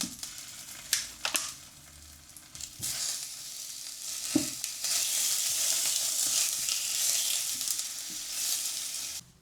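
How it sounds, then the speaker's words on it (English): Sausages sizzle in a pan over medium heat, a few sharp taps and clatters as they go in, then a steady, growing hiss of frying, close and without voices. "I've now got another pan on a medium heat and I'm just going to put all of the sausages on"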